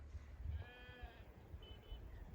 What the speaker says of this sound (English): There goes those sheep around the top up there.